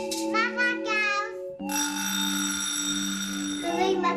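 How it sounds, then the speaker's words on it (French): A voice is followed by an alarm clock ringing in a bright, continuous electronic tone for about two seconds during a sound guessing game. "Réveil matin."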